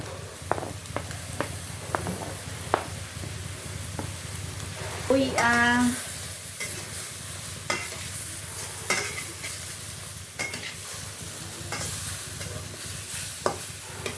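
Onions dropped into a hot pan for arroz caldo, a burst of sizzling as they hit the oil followed by steady frying and repeated sharp clinks of a utensil stirring, close and moderately loud.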